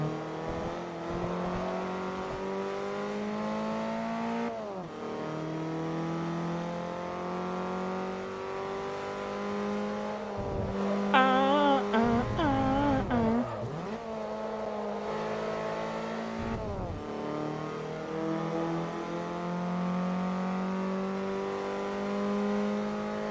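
An E-class race car engine in Forza Motorsport 3 drones steadily at high revs, with repeated gear shifts and brief dips, and a short burst of tire squeal midway, all loud and continuous.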